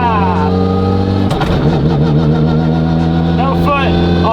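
A Mitsubishi Evo engine idles loudly, then revs sharply and holds a strong buzzing drone during shift testing, with brief blips near the end.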